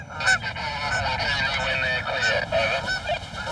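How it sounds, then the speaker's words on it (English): A family of geese honks repeatedly in loud, overlapping calls near a runway, the honks coming in an irregular stream over a steady low rumble with no talk. "Hey, there's a family of geese"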